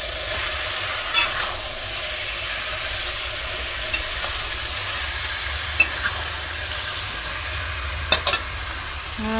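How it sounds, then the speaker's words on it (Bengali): Chicken sautéing and being stirred in a pan, a steady frying sizzle throughout with a few sharp scrapes of the spatula against the pan at intervals, with no talk. "এই চলছে আমার চিকেন কষানো"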